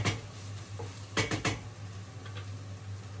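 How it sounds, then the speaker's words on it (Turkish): A spoon stirs minced meat and green bean stew in a pot, giving a few quick metallic scrapes and clinks that stand out over a steady low hum and faint kitchen noise. "Yemeğimizi bir daha karıştıralım."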